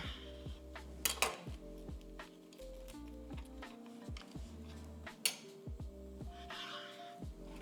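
A knife cutting a pancake into four pieces on a plate, with quiet, scattered clinks and taps of cutlery against the dish.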